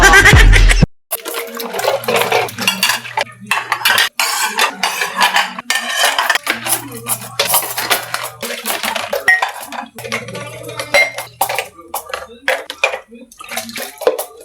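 Dishes washed by hand in a home kitchen, with steady running water, clinking plates, pots and cutlery rattling close by in a continuous busy clatter.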